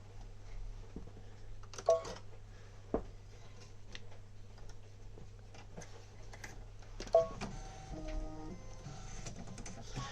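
An embroidery machine stitching the lay-down stitch of an applique badge, a soft steady mechanical ticking and whirring with occasional louder clicks, fairly quiet and heard alone.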